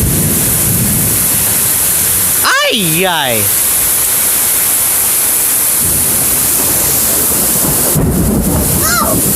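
Thunderstorm with steady heavy rain hissing loudly throughout, a crack of nearby thunder rolling in early and a second rumble near the end, with a man's brief exclamations over the storm.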